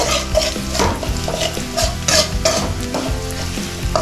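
Beans with a pinch of turmeric sizzle loudly in a pan while being stirred, with steady frying crackle and repeated scraping strokes up close and no talking.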